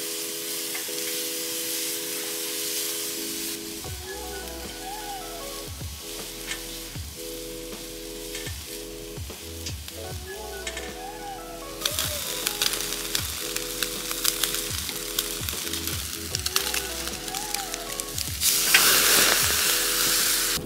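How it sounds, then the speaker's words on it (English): Meat sizzles and crackles steadily on a hot Korean barbecue grill, with rhythmic scraping and stirring and a mechanical clicking pattern running through it. "Sizzle, baby."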